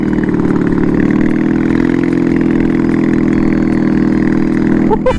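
An upgraded riding lawn mower engine runs loud and close, a steady buzzing drone held evenly throughout, with a brief rising rev and rattle just at the end.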